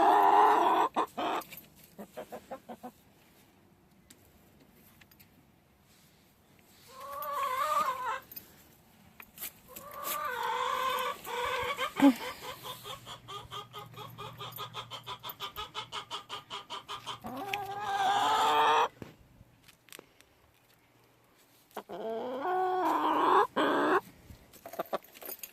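Backyard chickens clucking and squawking close by, in repeated irregular bursts with quiet gaps between them and a longer run of busy clucking through the middle.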